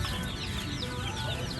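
Backyard chickens cluck in a continuous, busy chorus over a noisy outdoor background, fairly close and loud.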